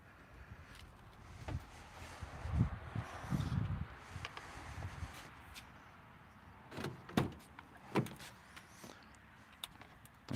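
A car door unlocked by typing a code on its keypad and then opened, outdoors after a snowfall: scattered soft clicks and muffled thumps, with a few sharper latch and door knocks near the end, close but fairly quiet.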